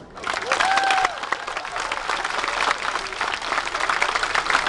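Audience of spectators in Riga bursts into loud applause for a dancing couple, swelling after a brief quiet start and holding steady with scattered shouts and whistles.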